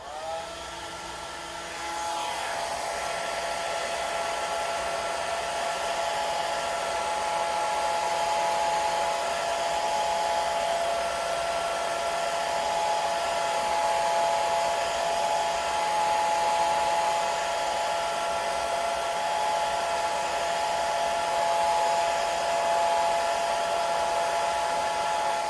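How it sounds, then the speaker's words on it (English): A hair dryer set on low dries a layer of watercolor paint on a butterfly painting, its steady close whirring airflow starting within the first couple of seconds and running unbroken, with no voices. "Take your hair dryer,"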